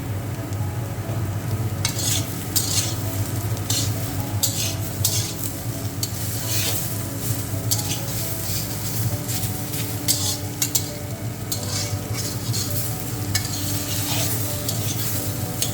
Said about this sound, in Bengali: ধনিয়া জিরা আর শুকনো লঙ্কা বেটে রেখে দিয়েছিলাম এটাকে দিয়ে মিশিয়ে নিচ্ছি